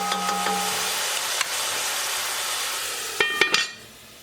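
Wine poured into a hot pan sets off a steady, bright hiss of sizzling that runs throughout, with a few sharp clinks of cookware near the end.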